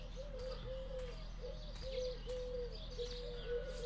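Birds coo softly in the horror video game Dreadout, repeated dove-like calls in a steady rhythm over a low droning ambience, with faint chirps in the background.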